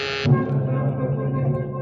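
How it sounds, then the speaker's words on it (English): A call buzzer sound effect from an old-time radio detective drama gives a short, loud, bright electronic buzz, then cuts to a low steady hum that runs under the scene. "I was thinking about it when the call buzzer zizzed in my ear."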